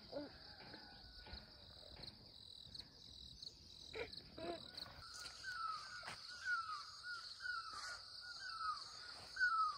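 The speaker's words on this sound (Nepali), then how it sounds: "न्याउली चरा कराइरहेको छ" A nyauli bird calls repeatedly in a Nepali village in Bhojpur just after rain, its clear notes rising over a steady, high insect drone with a few harsher caws; no one speaks.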